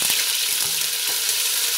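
Ground garlic and onion paste fries in hot oil with a loud, dense hiss close by. A few faint pops and stirring clicks sit under the steady sizzle, and no one speaks.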